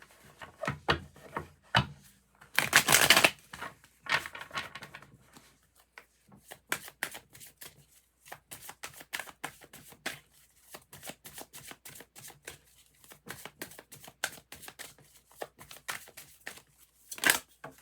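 Tarot cards shuffled by hand in repeated riffles and quick flicking bursts, close and crisp, with short pauses between runs and a brief dense rustle early on.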